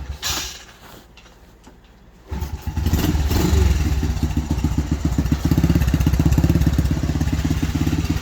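A Yamaha TTR 90 dirt bike with a worn kickstarter one-way bearing is kicked over and fires up, a few seconds of rough cranking giving way to a loud, fast, steady single-cylinder putter close by.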